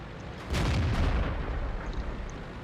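Tank cannon fire in the World of Tanks game, a single heavy boom that swells and rumbles on for a couple of seconds at close range.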